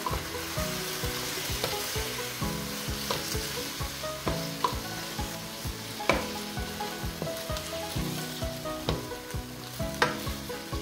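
Tomato sauce and ketchup stirred into chicken afritada frying in a pan, a steady loud sizzle with rhythmic scraping strokes of a spatula, no voices.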